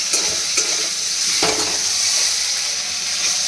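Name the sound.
potatoes frying and being stirred in a pan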